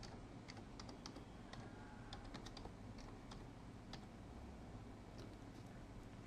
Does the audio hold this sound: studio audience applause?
no